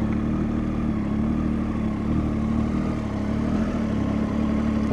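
A motorcycle creeping slowly up a slight incline at around walking pace, rider working the clutch: a steady low engine drone near idle, close and continuous, with faint mechanical clatter and no talking.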